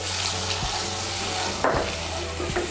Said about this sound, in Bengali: এখন এর মধ্যে দিয়ে দেব জল।